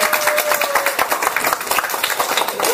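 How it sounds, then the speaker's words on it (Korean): An audience at a lecture bursts into applause to welcome a team forward, with many hands clapping densely and continuously close by, steady in loudness throughout. "저쪽 돈보스코 팀 박수로서 모시겠습니다"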